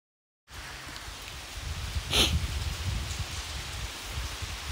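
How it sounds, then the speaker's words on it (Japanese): Heavy downpour at Tonoyama Tunnel in Atsugi, Kanagawa: a dense, loud, steady roar of rain that starts abruptly and swells briefly partway through, with no talking. "雨すげえ降って、もう滝のように降ってる"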